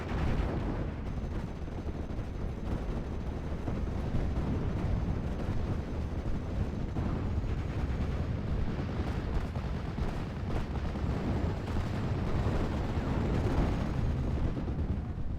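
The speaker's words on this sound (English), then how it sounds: "This Panzer VI is currently lighting up some shots into this Ranger support group way over here." Panzer VI tank firing shots in a World War II video game battle, a continuous dense rumble of heavy gunfire and distant explosions that stays steady and loud throughout, with no voices.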